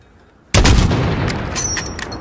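Single sniper rifle shot in Call of Duty Modern Warfare (2019), a loud, close crack that bursts out of near silence and rolls into a long, booming echo tail.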